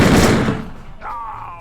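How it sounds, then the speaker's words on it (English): A single sharp gunshot fires up close in the gangster strategy game Empire of Sin, a loud burst that quickly decays into quiet. "that gun sure sounds nice"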